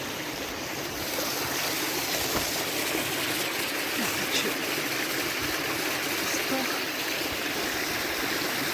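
The Polycar waterfall seen in summer roars with a constant broadband rush of falling, flowing water, loud and steady throughout with no voices.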